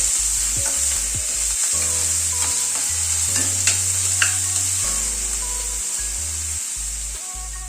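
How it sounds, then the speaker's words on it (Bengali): Finely chopped onions frying over a medium gas flame, with a constant bright hiss of oil and occasional stirring clicks and scrapes, close and steady, with no speech. "গ্যাসের ফ্লেমটাকে মিডিয়ামে রেখে পেঁয়াজটা ধীরে ধীরে কুক করে নেব"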